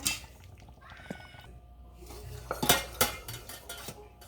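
Pot of blanched broccoli lifted out and drained while cooking Asian steak, with a few light metal clinks and clatters of cookware and utensils and a brief splash of water, close by and fairly quiet, no talking.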